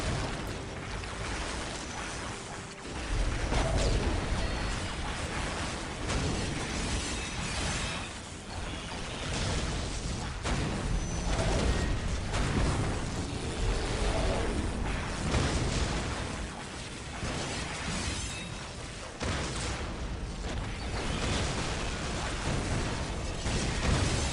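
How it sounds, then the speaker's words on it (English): Artillery barrage in a Warhammer video game: a continuous dense rumble of explosions, booms and crackling debris layered over one another, loud and sustained throughout with no speech. "the barrage again"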